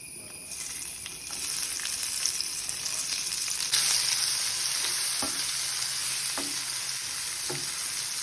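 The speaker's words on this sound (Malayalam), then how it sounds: "ഇനി ചുവന്നുള്ളി ചേർത്ത് കൊടുക്കാം." Shallots sizzle and fry in hot oil left from frying chicken, with curry leaves in the pan; a steady loud hiss runs throughout with occasional stirring clinks and pops, no talk.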